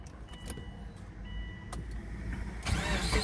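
A 2005 Subaru Forester cranks and fires up, with clicks and key sounds at first, then a rising engine rush toward the end, heard close and fairly quiet.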